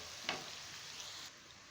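Sliced onions fry in a pan for Kashmiri dum aloo, giving a steady, faint sizzle with a light clatter near the start. The sizzle drops off sharply toward the end.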